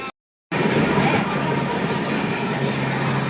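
Tirumala Express train rolling into a railway station, a loud steady rumble and rail roar starting abruptly after a brief silent gap, with a low hum underneath and no clear talk.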